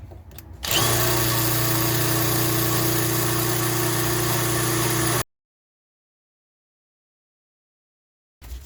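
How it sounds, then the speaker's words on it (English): A power drill drilling out screws during a rear disc change starts with a jolt and runs loudly and steadily for several seconds, then stops abruptly into silence before briefly starting again. "I'm just going to drill the hell out of these. Drill straight in."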